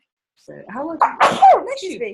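A single sharp sneeze from a person with hay fever, set between bits of close conversational speech in an interview.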